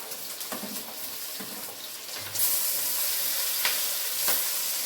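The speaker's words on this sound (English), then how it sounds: "now the tomatoes and the zucchini go in." Tomatoes and zucchini are dropped into a hot pan for fried rice; the sizzle jumps suddenly louder partway through into a steady, bright hiss, with a few scattered clinks and stirring sounds and no talking.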